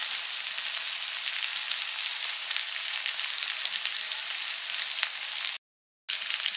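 Mustard oil sizzles and crackles steadily in an earthen pot set up for steaming fish, a close, even hiss that cuts out briefly near the end before resuming.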